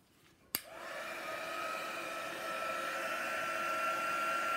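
A hair dryer switches on after a sharp click and blows a steady, loud whirring drone with a rising whine while drying watercolour paint on canvas, running continuously without talk.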